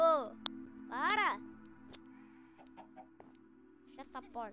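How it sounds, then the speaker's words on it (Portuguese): Minecraft chickens clucking on top of a house in the video game, a couple of loud clucks at the start, scattered clicks, then softer clucks near the end over a steady hum. "tem galinha em cima da casa"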